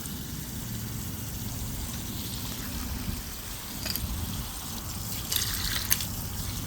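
Water runs steadily into a rock tumbler loaded with gemstones, a continuous splashy trickle with a few brighter drips near the end, close and fairly loud with no voices.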